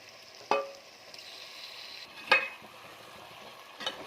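Chicken stirred in a pan produces three sharp clanks of a utensil against the metal, spaced a couple of seconds apart, over a quiet background sizzle.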